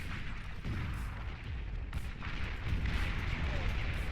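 Missiles from an Arbiter striking and destroying a Tech 2 lab in the strategy game Beyond All Reason, a dense, continuous rumble of booming artillery-like blasts heard over a commentator's voice.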